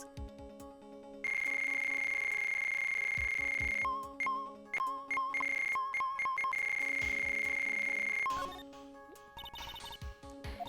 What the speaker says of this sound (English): A cell phone.